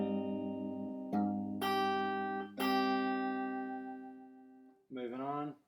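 Fingerstyle acoustic guitar picking part of a song, a few plucked notes and open strings ringing and overlapping, with a fresh pluck every second or so, fairly quiet and close, alone without talk.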